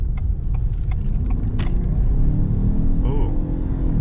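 A Lincoln Corsair pulls away under acceleration in its sport mode with a steady low engine rumble and road noise from inside the cabin. The rumble builds slightly and a brief voice murmur comes near the end.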